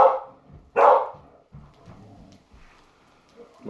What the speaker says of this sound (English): My dog's yelling at a squirrel,